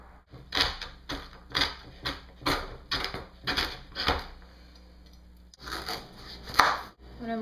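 A knife chopping fresh turmeric root on a board, about eight steady, sharp thuds in an even rhythm, then a short pause and a few more cuts, close and clear.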